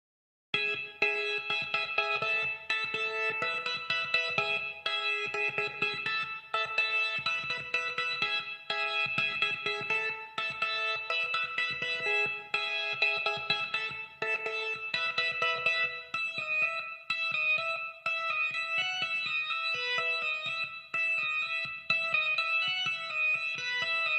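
Sustained organ chords play steadily with a soft, smoothed tone and a gentle reverb tail, moderately quiet throughout.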